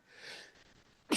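A single sharp sneeze near the end, loud and close, after a soft breathy intake, during a casual sports talk show.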